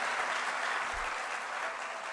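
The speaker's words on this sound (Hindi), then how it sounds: "आप ताली बजा रहे हो" An audience at a political rally claps in a steady, dense wash of applause that continues for the whole stretch without a break.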